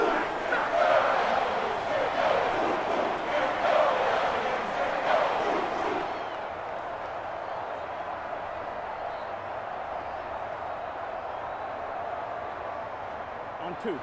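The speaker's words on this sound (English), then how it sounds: "The dog pound barking as loud as they can here." Browns Dawg Pound fans in a Madden NFL 24 stadium crowd, barking and roaring loudly for about six seconds before the noise drops to a steadier distant murmur.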